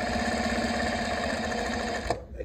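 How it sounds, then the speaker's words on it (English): A Juki DDL-8700-H industrial sewing machine runs at speed stitching heavy denim with heavy-duty polyester thread, a rapid, even mechanical whir and stitching rhythm, close by, stopping abruptly near the end. "great, great sewing machine."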